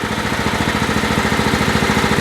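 A John Deere 345 lawn tractor with a 15-horsepower Kohler CV15S engine idles at low speed, with a steady, close, even pulsing rumble and no one talking.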